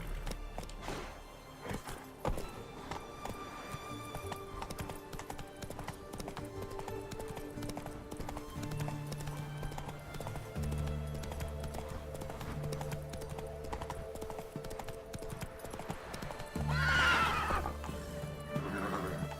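Roach, a horse in The Witcher 3, gallops with a rapid steady clip-clop of hooves, moderately near, under game music, ending in a loud neigh.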